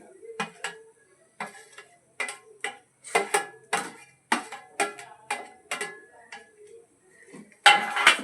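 Noodles are tossed into a pan with egg, onion, garlic and spices. Sharp metallic clinks and scrapes from a spatula come in short, irregular bursts with quiet gaps between, ending in a louder clatter.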